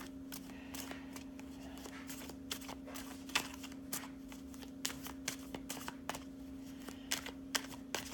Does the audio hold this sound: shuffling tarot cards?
yes